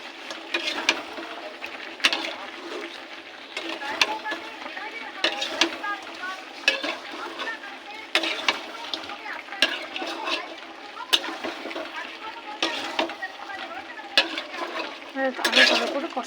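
Chicken and onions for chicken do pyaza are sautéed with salt in a pan, with rhythmic spatula scrapes and stirring strokes over a gentle sizzle, close and moderately loud.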